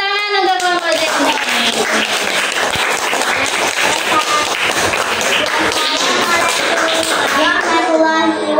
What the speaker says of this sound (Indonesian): Beri tepuk tangan untuk kelompok Sydney